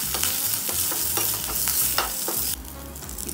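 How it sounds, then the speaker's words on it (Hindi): Curry leaves and green chili fry in oil with crackled mustard seeds, giving a lively close sizzle broken by repeated stirring scrapes and sharp spits, which briefly brighten near the end. "अब इसमें अपनी करी लीव्स डाल देंगे, ग्रीन चिली भी ऐड कर देंगे और इनको 2 मिनट के लिए भून लेंगे।"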